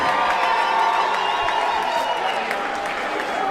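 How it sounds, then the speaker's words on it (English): Crowd at a professional women's boxing title fight applauding and cheering steadily throughout, loud and continuous with whoops mixed in and a faint announcer's voice underneath. "Ladies and gentlemen, a round of applause, please, for both of the boxers in this ring."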